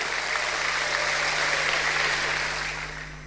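A church congregation applauds for God during a sermon, a steady, moderately loud patter of many hands that fades slightly toward the end.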